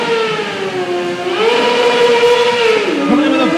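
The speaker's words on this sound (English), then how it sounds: "Coming in with a big burnout," A stunt motorcycle does a big burnout at a freestyle show in Minneapolis, its engine screaming at high revs in a loud sustained wail that shifts in pitch, close and raw, with an announcer's voice partly mixed in.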